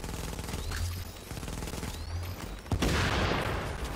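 Rapid rounds of gunfire crackle in a firefight in The Division, a dense volley breaking out partway through and continuing steadily. No voices can be heard.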